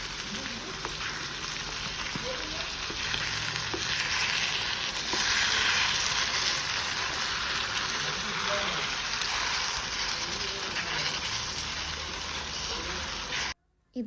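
Beef roast frying in a pan while being stirred, a dense, steady sizzle and hiss that holds at close range for the whole stretch, cutting off abruptly near the end.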